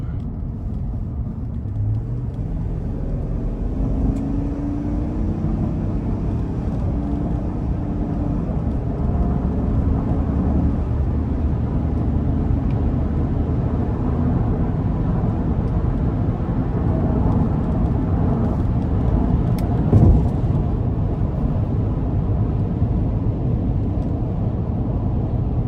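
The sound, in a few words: 2021 Chevrolet Tahoe RST 5.3 liter engine accelerating onto interstate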